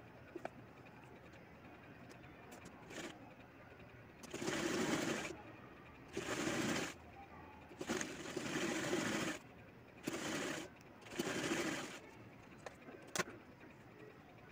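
Sewing machine stitching a baby frock, short bursts of fast mechanical whirring, about six runs of a second or so separated by pauses with small clicks, close and clear.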